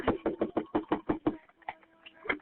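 Rapid knocking on an apartment door, about eight quick evenly spaced raps, then a pause and a few scattered, softer knocks.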